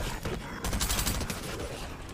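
Gunfire in the video game Fortnite crackles in a rapid, dense fusillade of overlapping shots, fairly faint and distant, with bursts that swell and fade.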